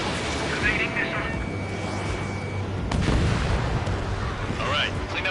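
Jet combat video game action with dense gunfire, explosions and missile sounds under a constant engine-like roar, with game radio chatter from pilots running over the top.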